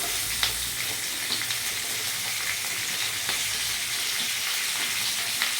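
Onion tipped into hot oil already frying garlic and chopped green chilli for chilli mushroom, giving a steady close sizzle with small crackling pops throughout and no talk.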